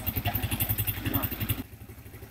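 Close motorcycle engine idling with a steady, rapid putter and mechanical clatter, cutting down to quieter low rumble near the end.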